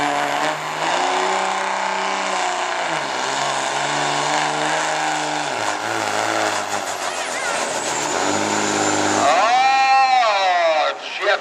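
Dodge diesel pickup in a 2.5 diesel truck pull class at a Lions Club event in Lynn, its engine droning loud and steady as boost builds, pitch stepping with gear changes and rising to a whine, while an announcer talks over it.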